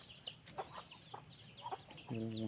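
Faint clucks from a rooster with chickens nearby, a few scattered calls over a hissy background, then a louder steady tone at the end.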